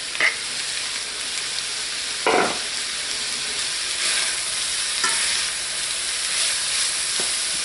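Cabbage and onions fry in a hot pan with a steady, loud sizzle throughout. Occasional scrapes and stirring clatters rise above the constant hiss, and no one speaks.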